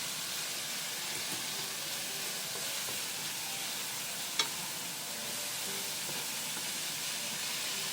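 Bean sprouts stir-frying with pork and garlic shoots in a frying pan on an electric stove, giving a steady, close sizzling hiss that runs throughout, with one brief sharp clink partway through.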